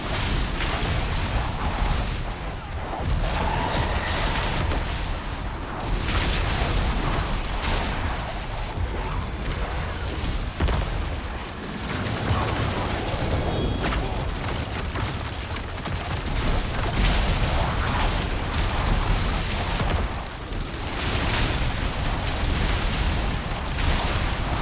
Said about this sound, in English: About these explosions, I wish Spiritborn had like a sound effect like that for some of their skills